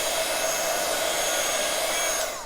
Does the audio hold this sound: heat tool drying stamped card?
yes